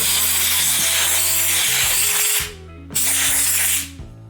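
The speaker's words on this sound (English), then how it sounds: "So we're gonna go ahead and blow out this housing here and get that nice and clean." Compressed air hisses loudly as it blows debris out of the housing of a Stihl MS170 chainsaw, two long sustained blasts separated by a brief pause, close and alone.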